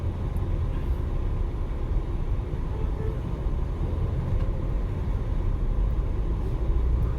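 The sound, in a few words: road traffic in Riyadh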